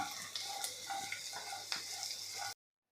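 Roasted, skinned peanuts sautéing with potato in a pan produce a soft, close sizzle with light scraping stirs and a few small clinks, quiet and continuous before cutting off abruptly.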